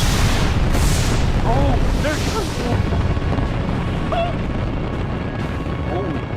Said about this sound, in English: We are about to launch the largest firework anyone in mankind's history has ever seen.